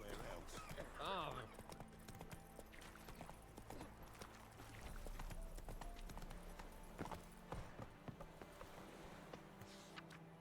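Hooves of the horse Roach pound in a steady clip-clop gallop in a video game over a faint ambient background, with a few brief sound effects.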